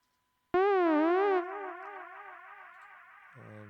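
A synthesized siren with tape reverb on a send in Logic Pro X starts abruptly, wavers loudly up and down in pitch for about a second, then settles into a sustained reverberant wash with a lower tone entering at the end.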